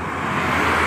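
A dump truck hauling gravel rolls past on an Indonesian toll road, a steady, loud broadband roar of tires and engine that swells slightly as it nears, with no talking.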